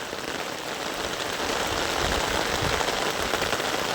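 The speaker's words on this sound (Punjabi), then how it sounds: "ਪੂਰਾ ਜ਼ੋਰਾਂ ਤੇ ਮੀਂਹ ਪਿਆ ਹੋਇਆ" Heavy rain falls in Sangrur, a steady hiss of drops on surfaces mixed with rushing runoff water, continuous and fairly close, with no talk.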